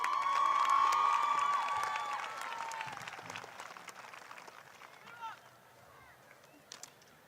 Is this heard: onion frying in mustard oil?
no